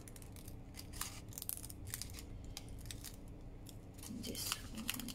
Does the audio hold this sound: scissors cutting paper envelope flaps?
yes